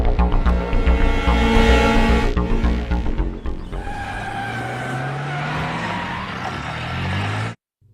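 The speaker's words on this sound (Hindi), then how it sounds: "गाड़ी निकालो।" A car pulls away hard with a long tire skid and screech, the engine roaring loudly up close before the sound cuts off abruptly near the end.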